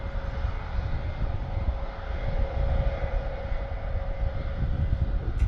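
A parked RAF Airbus A400M military transport at Benbecula airfield runs its turboprop engines, a steady distant drone with a sustained tonal hum and low rumble, constant throughout with no voices.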